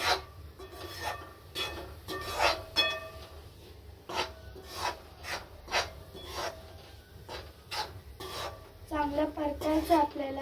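Vegetable momo filling with soy sauce and black pepper being stirred and tossed in a pan, a series of scraping, rasping spatula strokes at an uneven pace, close by, with a voice at the end.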